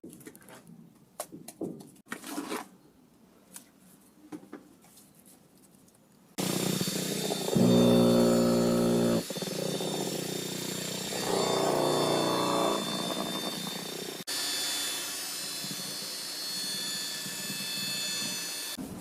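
A concrete vibrator starts with a loud, steady mechanical drone after a quiet stretch of scattered knocks, holding a buzzing, engine-like hum with shifting pitch for the rest.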